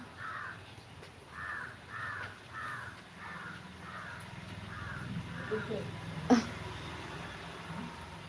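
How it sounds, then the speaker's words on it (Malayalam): A crow caws in a steady series of about seven calls over several seconds, moderately near, with a faint background hum and a sharp knock near the end. "മറ്റേ കാക്ക വന്നില്ലല്ലോ"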